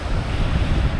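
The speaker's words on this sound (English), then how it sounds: "But look at these waves." Ocean surf rolling onto a Maui shore, a dense continuous roar mixed with wind buffeting the microphone.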